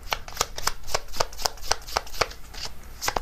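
Tarot cards are shuffled and drawn in close, steady rhythmic riffles with crisp papery snaps, heard alone at moderate volume.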